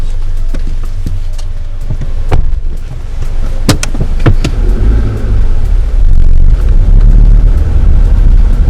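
A car pulls forward on a driving test course for a hill start, with a loud, close engine rumble, low road noise and sharp clicks and knocks from inside the cabin.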